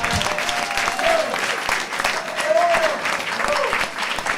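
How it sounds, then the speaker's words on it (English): A crowd applauds the panelists on stage at an evening event about 1970s Whiteaker tales, steady, full clapping that holds for several seconds with faint voices mixed in. "Please give a round of applause for all of the panelists who are up on stage tonight."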